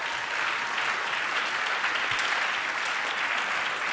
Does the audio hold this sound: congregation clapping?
yes